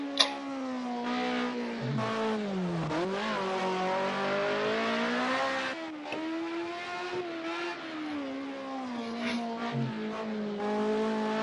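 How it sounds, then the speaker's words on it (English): A high-pitched Formula One car engine in the video game Project Cars 2 whines steadily, rising and falling as it revs and shifts, sustained throughout with no talking. "I'll take the Formula car, Formula One car out."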